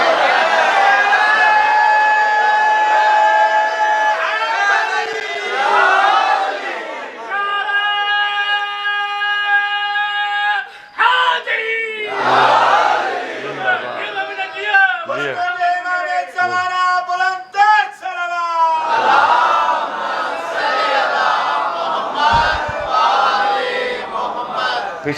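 A crowd at a Muharram religious gathering shouts loud chanted slogans in repeated bursts, alternating with a single voice leading the calls and short pauses.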